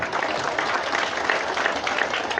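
Steady applause from a crowd at a school classroom inauguration ceremony, dense clapping that holds evenly for a couple of seconds with no voices over it.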